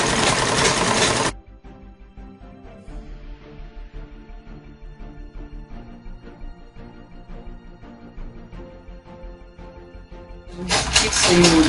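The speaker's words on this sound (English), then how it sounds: "You lock up the stitch from the beginning, then you keep sewing." A sewing machine stitches a skirt seam in a steady, close mechanical hum with rapid needle ticking, framed by louder noise bursts at the start and end.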